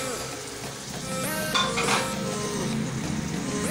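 Mutton with yogurt and brown onions stir-fried in a karahi for an Afghani mutton karahi, a steady close sizzle with scraping strokes of a spoon that grow louder midway, no talk.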